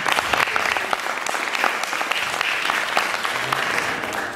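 A crowd gives young people from Gravina, Italy, steady sustained applause at a community presentation, dense and even for several seconds with no speech over it.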